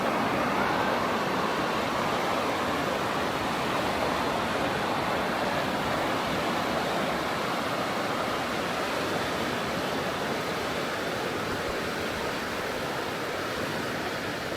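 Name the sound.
flowing water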